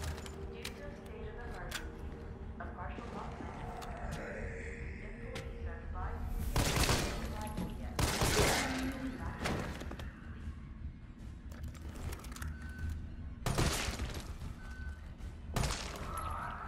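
Gunfire in Resident Evil 3 rings out as several sharp, loud reports spaced apart over low ambient game noise, with quieter mechanical clicks between the shots.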